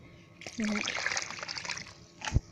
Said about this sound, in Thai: ตักน้ำออกนิดนึงนะฮะ